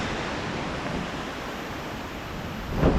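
Steady, dense roar of rushing water at Kirindi Ella waterfall near Pelmadulla, Sri Lanka, heard up close as an unbroken broadband wash, with a short thump or gust near the end.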